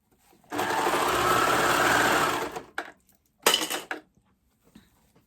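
Sewing machine stitching a stretch-fabric seam, running in a steady loud whir for about two seconds, then a short burst after a pause, with faint handling noises between.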